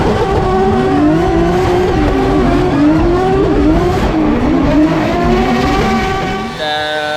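A drift car's engine runs hard and loud throughout, revving up and down in a steady cycle at a DMEC competition round in Germany, with a quieter moment near the end.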